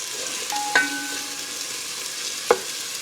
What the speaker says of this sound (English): I'll stir these around nicely, and they're going to become nice and translucent.